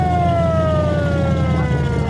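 Vintage fire truck siren wailing loudly and continuously at a parade, its pitch slowly sliding downward over a dense background rumble of engine and street noise.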